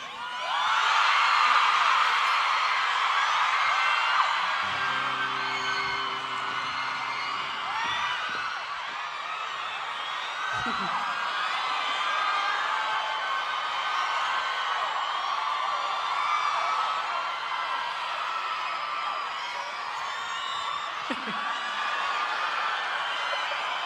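A concert crowd at a live duet show screams and cheers in a sustained, dense, high-pitched roar that stays loud across the whole stretch, rising and easing slightly, with no clear speech.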